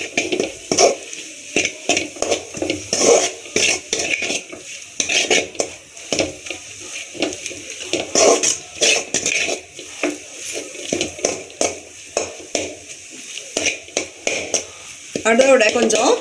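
Spoon stirring and scraping against a pan as spice powder is worked into a Tamil country chicken curry, with repeated metallic clinks and scrapes in an irregular rhythm, close and fairly loud, under intermittent speech.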